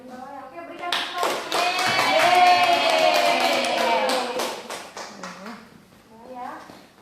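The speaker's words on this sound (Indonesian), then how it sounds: "Oke, berikan tepuk." Students in a classroom clapping together in a rhythmic pattern. The claps build into a loud, quick flurry that lasts several seconds, then break into scattered claps, with voices calling out around them.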